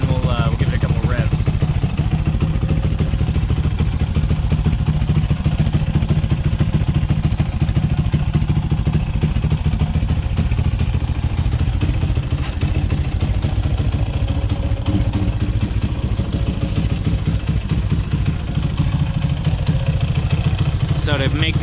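A Grom-clone pit bike with a modified carburetor runs steadily and loudly close by, its engine chugging throughout while someone talks over it.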